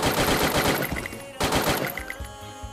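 Automatic gunfire in the mobile shooter Garena Free Fire, loud rapid bursts of shots in two quick volleys, close and dense, with faint game effects underneath.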